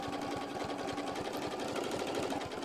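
A sewing machine stitches applique down onto a quilt-style project toward the binding edge, running in a steady, continuous rapid whir with even mechanical pulsing throughout.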